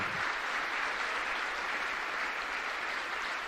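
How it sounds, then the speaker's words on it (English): Awards ceremony audience at a Formula SAE electric vehicle competition gives partners and sponsors a big round of applause, a steady, dense wall of clapping from a sizable crowd throughout. "So let's give them all a big round of applause."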